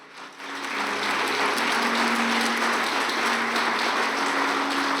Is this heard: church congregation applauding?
yes